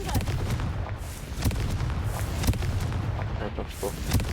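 Confringo spell blasts in the Hogwarts Legacy video game, a rapid series of booming explosive bursts repeating about every half second amid rumbling combat noise.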